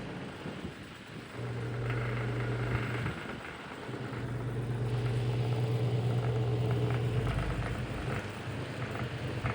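An Emerson 6250 electric fan, freshly rewired, runs steadily with a low motor hum and a rising, falling whirr as it oscillates; close, continuous and fairly loud, with no voices.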